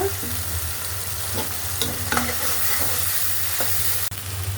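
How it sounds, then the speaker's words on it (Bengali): A spice paste of garlic paste, onion paste and salt fries in a pan, giving a steady close sizzle with several soft scraping stirs and a quick knock near the end. "স্বাদ অনুযায়ী লবণ রসুন বাটা পেঁয়াজ বাটা মশলাটা একটু ভাজতে দিচ্ছি"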